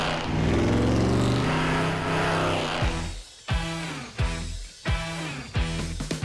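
A car on a road test with RTX Wheels' new Chaos wheels, its engine revving loudly and then climbing through several sharp upshifts as it accelerates away.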